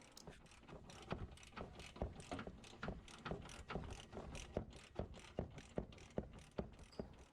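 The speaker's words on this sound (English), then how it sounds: "I went ahead and just picked up my 1/2 inch ratchet and removed the bolt." Half-inch ratchet turning to remove a bolt on a 2016 Ford Mustang during upper control arm work, a steady run of sharp, close clicks at an even rhythm with no talk.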